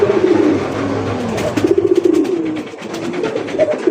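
A male and female rasgolla fancy pigeon coo steadily and close by, with low rolling calls that repeat in overlapping phrases for the whole stretch and no talk.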